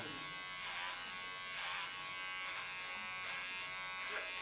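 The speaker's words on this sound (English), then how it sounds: "guide my hairs into the clipper with my comb" An electric hair clipper buzzes steadily at close range while cutting a man's hair with a comb guiding it, its drone dipping slightly in pitch as it bites into the hair at intervals.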